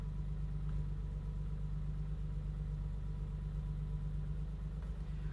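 A BMW E30 engine idles steadily with a low, even rumble after its fuel table is leaned out on an MS3Pro engine management setup, heard up close with no talking.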